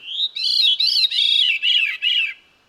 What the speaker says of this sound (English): But the veery has one of the most beautiful bird songs I've ever heard.